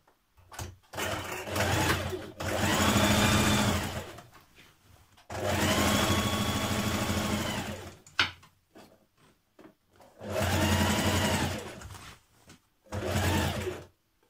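A sewing machine stitches a jeans seam just below the fly in four loud bursts of rapid, whirring needle action, separated by quiet pauses and small handling clicks.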